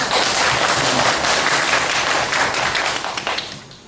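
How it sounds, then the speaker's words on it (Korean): Dense, steady applause from a lecture audience in a Korean education talk, loud and close throughout with no voices over it, tapering slightly near the end. "박수 좀 쳐주세요"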